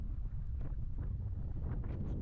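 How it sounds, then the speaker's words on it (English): Wind gusts at an outdoor baseball field in Glasgow, buffeting the microphone with a steady low rumble that swells and fades in waves, loud and continuous with no other clear sounds. "Wind continues to whip round. Not quite as strong gusts right now as it was earlier"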